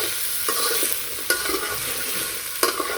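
Potatoes and taro fry in a pan in a village kitchen with a steady, close hiss of hot oil, broken by three sharp scrapes of a stirring utensil against the pan.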